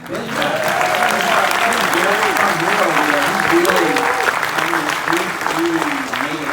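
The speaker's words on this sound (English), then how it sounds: "A round of applause for Ben." A large audience breaks into sustained, loud applause at a live event, steady and dense throughout, with cheering voices and whoops rising over the clapping.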